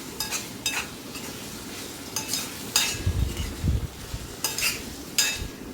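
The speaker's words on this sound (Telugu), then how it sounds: "ఒకసారి అంతా కలుపుకుందామండి." Prawn curry (royyala iguru) being stirred in a pan: a spoon scrapes and clinks against the metal in repeated strokes over a soft sizzle, with no talking.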